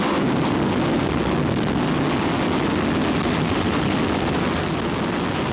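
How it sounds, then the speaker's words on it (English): Space shuttle main engines test-fire at NASA's John C. Stennis Space Center in Mississippi in 1988, a continuous, loud, broadband roar and rumble that holds steady throughout with no voices. "it's shuttle main engines, not solid rocket motors, making noise at NASA's John C. Stennis Space Center"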